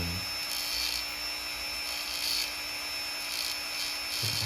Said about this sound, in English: we're gonna Dremel it out